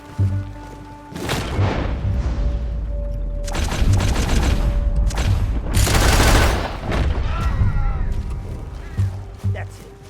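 Gunfire in Red Dead Redemption 2: loud, dense volleys of shots and booming blasts that keep coming in waves for the whole stretch, with voices talking over the shooting.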